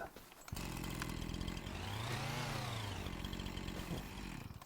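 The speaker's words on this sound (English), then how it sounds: "I worry when the chainsaw does that" A chainsaw in Farming Simulator 25 roars steadily as it cuts through a tree, starting abruptly then revving up and down in a loud, continuous buzzing whine that fills the whole stretch with no talk.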